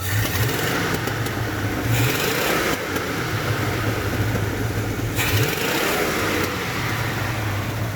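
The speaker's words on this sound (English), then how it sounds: "I'll rev her a couple of times, see how she sounds." A vehicle engine revs repeatedly, rising and falling in pitch across several throttle blips over a steady rumble, close and loud with no talking.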